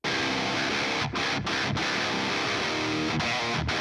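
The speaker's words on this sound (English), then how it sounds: "So this is the 5150 with the Maxon OD808." Heavy, distorted metal guitar played through a 5150 amp boosted by a Maxon OD808 overdrive, a dense chugging riff with a few sharp palm-muted stops, loud and close with no talking.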